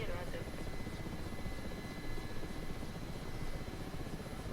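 Helicopter in flight with its rotor running, a steady low throbbing drone and engine whine heard from inside, continuous and fairly even throughout.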